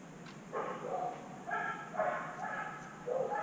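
Dogs bark out in a backyard, a string of muffled, somewhat distant barks in short bursts over quiet background hum.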